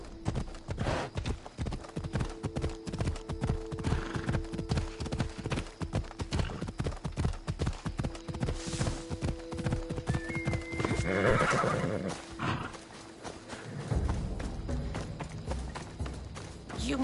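Horse hooves clip-clop in a steady rapid rhythm in Assassin's Creed Odyssey, loud and close, with a drawn-out whinny partway through and a few heavy thuds near the end.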